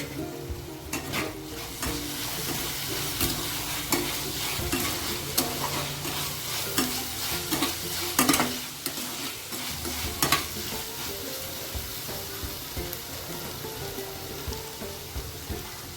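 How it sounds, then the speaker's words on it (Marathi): Vegetable sandwich filling with mixed herbs sautés in a pan, giving a continuous sizzle with frequent scraping and stirring strokes of a spatula throughout. "आता मिक्स हर्ब्स घालूया आपण थोडे आणि चांगलं परतून घेऊ"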